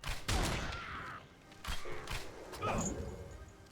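Gunfire in the Hellboy: The Science of Evil video game, a few scattered bursts of shots and impacts set among game noise, fairly faint with no speech.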